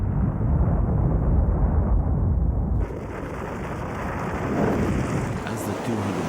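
Category 5 Cyclone Zoe's 200-mile-per-hour wind lashes Tikopia Island in the Pacific, a loud continuous roar of wind and storm that drops to a slightly lower, steadier rush partway through.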